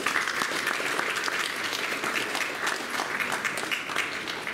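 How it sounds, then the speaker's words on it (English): A school audience at an academic awards celebration applauds the teachers with loud, sustained clapping. The sound is a thick, even roar that holds steady for several seconds with no talking. "I think a round of applause for all of the teachers that have supported you this semester."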